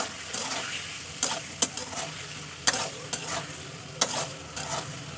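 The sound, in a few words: ginger garlic paste and potatoes sautéing in oil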